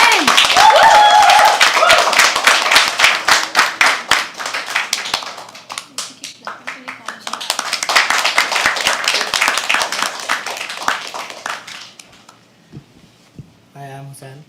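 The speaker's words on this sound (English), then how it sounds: "keep clapping, keep clapping, keep clapping. Louder, louder" A live poetry open mic audience at The Habitat claps hard and fast in a dense, loud roar of hands that swells twice before dying out, while a host's voice calls out over it.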